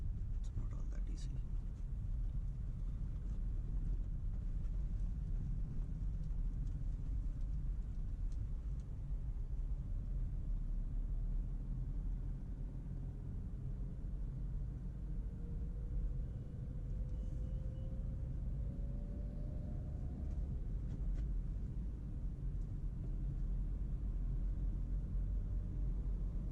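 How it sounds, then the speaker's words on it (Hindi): Steady low engine and road rumble fills the cabin of a car in Kanpur city, heard from a seat inside, continuous and even for the whole stretch with faint higher hiss above. "मैं कार के अंदर बैठा हूँ।"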